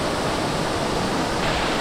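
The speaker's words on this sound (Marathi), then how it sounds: "इथून पाणी येतं आहे पूर्ण आणि या साईडला जात आहे त्या मोठ्या वॉटरफॉलला" Water rushes from a stream toward a large waterfall on the Chinchoti trek near Naigaon, a steady, loud broadband roar with no break and no voices.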